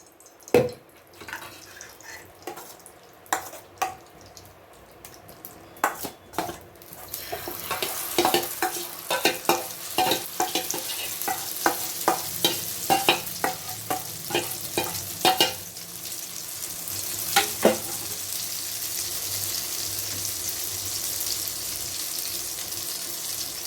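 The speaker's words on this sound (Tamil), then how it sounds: "அடுத்து நம்ம மறுபடியும் இன்னொரு ஆம்லெட் போட்டுடலாம்" A fish omelette fries in a pan, starting quietly with scattered taps and clicks, then building into a steady sizzle with repeated scraping stirs and occasional sharper knocks, close and without talk.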